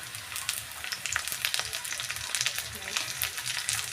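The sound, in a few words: onions and green chillies frying in pan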